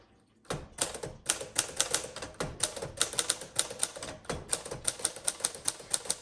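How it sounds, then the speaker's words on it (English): A 1951 Smith Corona Sterling manual typewriter clacks away close up, rapid sharp keystrikes in an uneven, brisk rhythm with no talking. "the Smith Corona Sterling is probably one of the most popular typewriters out there"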